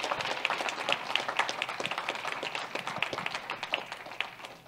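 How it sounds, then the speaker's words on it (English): A church audience gives a round of applause after a Sunday-morning sermon: many hands clapping in a moderately loud, fairly even patter with a few sharper individual claps standing out. "Can we give Chris a round of applause for the great message?"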